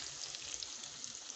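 Plantain slices frying in hot oil for kelewele, a steady, even sizzle heard alone and close.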